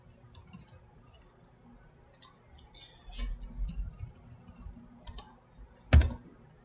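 Computer keyboard typed on in short bursts of quick clicks and taps, close and crisp, with pauses between groups and one louder knock near the end.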